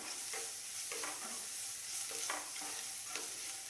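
Tomatoes go into frying masala for semiya noodles and get stirred, giving a steady close sizzle with repeated scraping strokes of the spoon, no voices.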